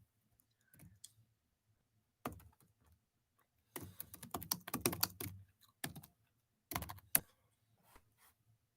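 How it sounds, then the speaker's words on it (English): Bursts of typing on a computer keyboard, quick clusters of clicks separated by short pauses, fairly close and clear with no talking. "I'm just typing in."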